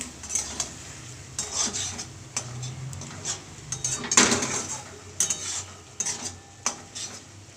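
A thick poppy-seed and mustard prawn curry being stirred in a pan, with a spoon clinking and scraping at intervals over a soft background sizzle.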